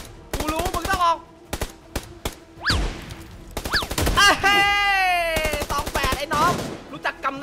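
Gunfire in the battle game PUBG Lite: repeated sharp shot bursts scattered throughout, loud and close, mixed with excited talking.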